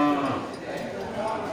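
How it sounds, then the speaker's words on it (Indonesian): A mini Aceh bull moos loudly and close at a cattle sale. A drawn-out low call opens the moment and fades into a rough, lingering tail, with faint voices in the background. "Ya, mantap sapi-sapi Aceh mini."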